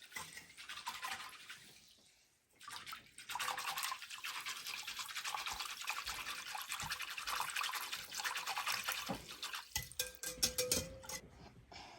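Liquid is poured over watermelon rind in a jar for pickling. It is a steady, close, splashy pour that dips briefly around two seconds, then runs continuously until the end.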